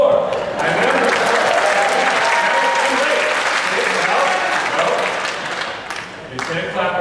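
Audience applause at a student technology conference talk: loud, dense clapping from a crowd, sustained and then fading briefly near the end.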